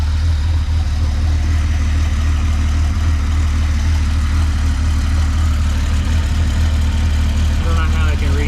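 A rebuilt Jeep 4.0 engine idling nearby, a steady low rumble that stays even throughout while someone talks over it.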